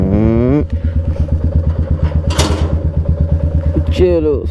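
A motorcycle engine idles steadily with a rapid, even thumping pulse, close and loud throughout, with a voice speaking over it at the start and end.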